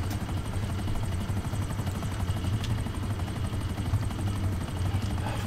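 A helicopter in GTA Online, flying during a Cayo Perico heist prep mission, gives a steady, loud rotor thrum with a rapid chopping pulse that holds the whole time.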